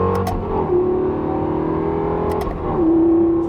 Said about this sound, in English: Listen to this, not only the downshift, but the sound of the paddle shifter itself.